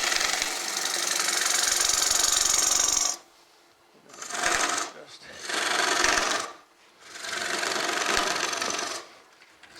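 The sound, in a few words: wood lathe hollowing a natural edge basswood bowl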